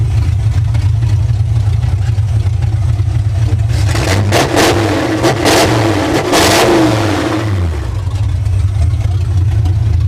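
A Ford F100 pickup truck engine runs loud and close, idling steadily, then revving up through several sharp throttle blips before settling back to a rumbling idle.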